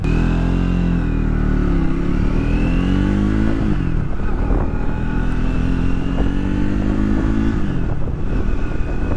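A Triumph Speed 400 motorcycle engine runs loud and close throughout a ride on the entry-level bike, holding a steady drone with pitch rising and falling as the rider works the throttle, with no talk over it.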